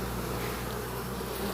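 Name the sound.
honey bees buzzing at hive entrance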